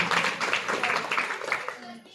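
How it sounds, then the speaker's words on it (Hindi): Audience clapping at a Bhagavat Katha religious gathering in a village, a dense burst of many hands, loud at first, then easing into scattered claps and fading as a voice begins beneath. "इनके लिए भी जोरदार तालियां हुई।"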